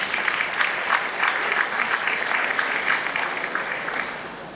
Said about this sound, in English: So a big round of applause to all of the leaders here.